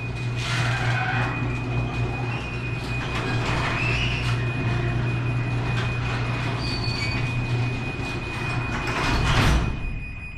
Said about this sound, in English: And now it's closing.